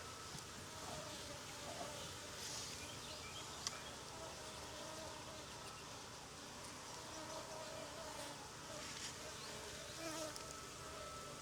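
Dense, steady buzzing of many honey bees at an open hive in an outyard, a continuous close swarm hum with wingbeats darting past the microphone throughout.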